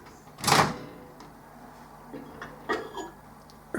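A microwave oven door clunks open near the mic with a short thud, then faint clicks and knocks follow as hot water is taken out, in a quiet room.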